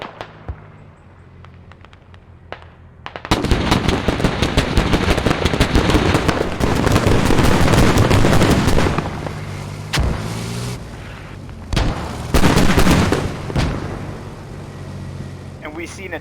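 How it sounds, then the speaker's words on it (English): Mortar fire in a team video game match breaks out after a short lull as dense, rapid crackling blasts, loud and sustained, with brief pauses and renewed volleys toward the end. "We see an attempt from ULD with mortars."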